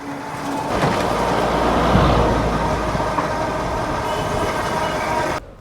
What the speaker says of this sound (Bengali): আজকে আমাদের ট্রেন হচ্ছে দ্রুতযান এক্সপ্রেস